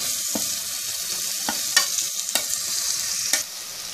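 Capsicum and tomato stir-fry in a hot pan for street-style veg noodles, a steady sizzle punctuated by several sharp scrapes and clanks of a spatula, close and without voices.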